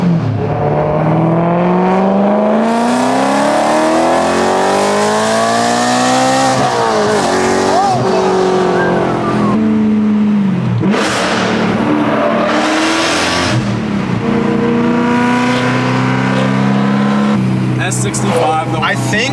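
BMW E92 M3 with the S65 V8 roaring loudly up close, revving and climbing through the gears in long rising sweeps, with short drops between pulls.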